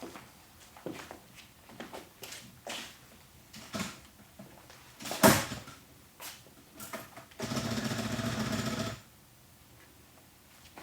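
A typewriter being readied for a statement in a police office, a series of soft clicks, knocks and mechanical clatter with one sharp snap, then a steady whirring rattle lasting about two seconds, close and quiet with no talk.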